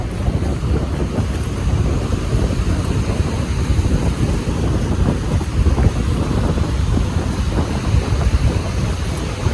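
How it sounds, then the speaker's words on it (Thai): Constant wind roars across the microphone at the seaside, with a dense broadband wash of waves beneath it, loud and unbroken, no talking. "อยู่ทะเล"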